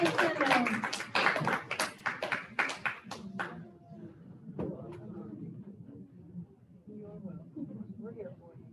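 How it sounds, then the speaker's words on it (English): Applause breaks out at a graduation ceremony, a burst of loud clapping from the audience that fades after a few seconds into murmuring and scattered voices. "Give a round of applause for Miss Rose."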